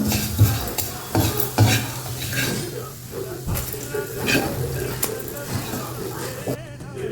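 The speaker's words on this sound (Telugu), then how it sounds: "జీలకర్ర ఒక స్పూన్ వేసుకోండి ఇవి కూడా వేగిపోయినాయండి" Cumin seeds roast in a dry pan for a bitter gourd podi, heard as a soft continuous sizzle with frequent scraping and stirring clinks of a spoon against the pan, close and steady.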